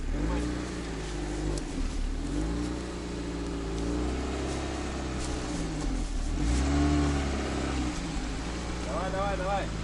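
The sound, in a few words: car engine revving while driving onto bushes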